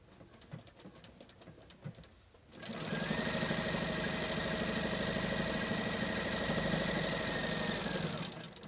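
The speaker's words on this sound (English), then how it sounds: "you want to stitch when you top stitch close enough to the edge so that you catch that seam or those raw edges down" A sewing machine top stitching along the pressed edges of a fabric tongue piece: a few seconds of quiet handling, then the motor starts and runs in a steady, close, fast humming rattle until the end.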